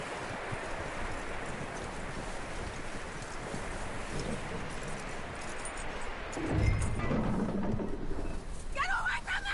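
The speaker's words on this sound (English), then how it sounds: "That looks like a decent horse." Horse hooves clip-clop steadily in the Red Dead Redemption 2 video game, set against a continuous ambient wash with a heavier thump and a brief chime near the end; murmured voices sit in the background.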